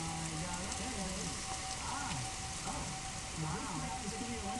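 Steady rain falls across a downtown square during a powerful storm, a dense continuous hiss heard under a voice talking throughout, with a faint tonal hum running beneath.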